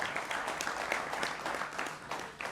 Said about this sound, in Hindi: उनका भी अभिनंदन है जोरदार तालियों के साथ।